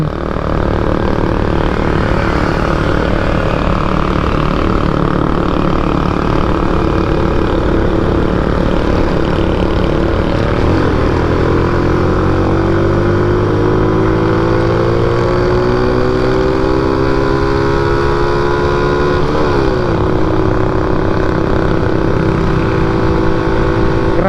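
A Suzuki Smash motorcycle engine straining up a hill on a long ride in Cavite, a loud continuous drone with the pitch sweeping up and down as it works through the gears.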